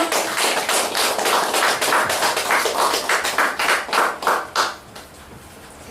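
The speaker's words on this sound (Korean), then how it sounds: "박수 한번 주세요" An audience at a televised event claps in a burst of quick, rhythmic applause that fades out after a few seconds.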